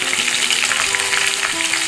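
Onion pieces sizzle and crackle steadily in hot oil in a pan with mustard seeds, cumin, chana dal, urad dal and green chillies, the base for a bitter gourd fry; the frying is loud, close and continuous, with no talk.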